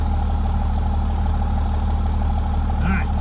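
A Cummins diesel truck engine idles steadily up close, a constant low droning rumble with a faint exhaust knock and a brief higher tone near the end.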